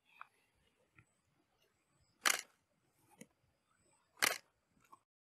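A camera shutter fires during a photo series at around f11, giving two loud, sharp clicks about two seconds apart with a few faint ticks between them, close by and without talk.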